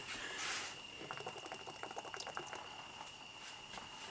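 Engine coolant from a Buick LaCrosse 3800 drains into a drain pan after the seal breaks, a steady bubbling, splattering liquid stream with a gurgling burst at the start, close by and fairly loud.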